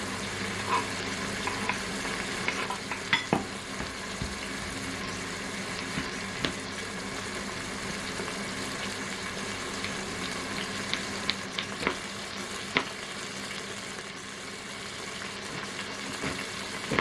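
Small pieces of garlic fry in a pan with a steady, close sizzle and crackle, a few light clinks and pops rising now and then over the constant hiss.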